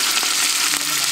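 Onion frying in oil in a village kitchen, a loud close continuous sizzle with a couple of brief stirring scrapes, no talking.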